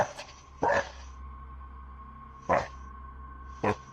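Dogs barking outdoors at night, three or four short sharp barks spaced unevenly over a low steady hum, fairly near and moderately loud.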